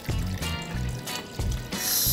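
Cooking water from boiled bananas poured into a blender, short close splashing pours broken by pauses, with clinks and a louder gush of liquid at the end.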